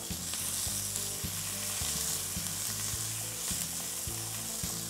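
Onions frying in a pan give off a steady close hiss of sizzling, with a regular thumping pulse running beneath it and no voices.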